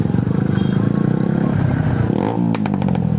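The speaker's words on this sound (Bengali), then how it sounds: "একজস্ট কেটে এই যে সাউন্ড বাড়ায় নিছে পুরো এলাকারে খবর দিচ্ছে" A motorcycle with its exhaust cut open revs loudly and close by, a harsh, sputtering roar that rises and falls, ending in sharp popping bursts on a bike ride from Bandarban toward Teknaf.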